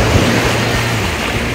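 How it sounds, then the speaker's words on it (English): Lake Erie water washes against a long beach in Ohio in a loud, steady rush that fills the whole moment with no pauses. "I know you can hear the water behind me."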